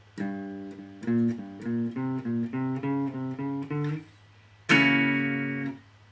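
Bluesy electric guitar ending to a song, a run of separate plucked notes in a steady rhythm, then a brief pause before one final ringing chord fades out, played alone with no voices.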